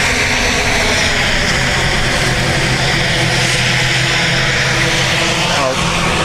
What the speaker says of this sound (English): we'll have a close-up of the propellers there